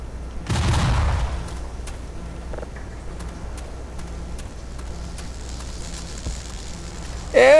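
A grenade explodes in the video game Black Mesa, one loud, close boom near the start that trails into a long crackling, rain-like rumble. A voice cuts in briefly at the end.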